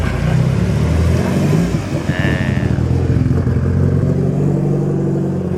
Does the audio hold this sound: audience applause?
no